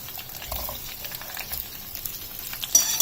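Potato and pointed gourd pieces frying in oil in a thick pan, a soft steady sizzle and crackle up close, quiet, with a few light clicks and a slightly louder stir near the end.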